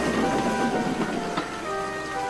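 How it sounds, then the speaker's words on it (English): Steady heavy rain pelting down in a raging night storm, a dense continuous hiss with faint tonal background music mixed in, no voices. "The rain pelted down."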